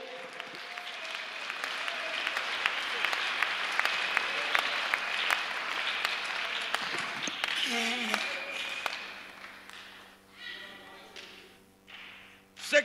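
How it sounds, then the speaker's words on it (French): An audience at a French-language church sermon bursts into sustained applause, a dense wash of clapping that holds steady for several seconds before thinning out, with a voice speaking faintly underneath. "Acclamons le Seigneur Jésus-Christ."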